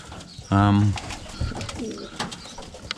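A pigeon gives a loud, close, throaty coo inside a pigeon cage, followed by softer rustling and faint murmuring coos from other birds, with some background voice.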